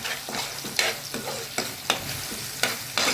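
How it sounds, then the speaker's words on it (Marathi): Ground masala paste fries in hot oil with a steady sizzle, broken by repeated scraping strokes of a spoon stirring it in the pan at a regular pace, close by. "तेल गरम झाल्यावर त्यात हे वाटण टाकून घेऊ छानपैकी"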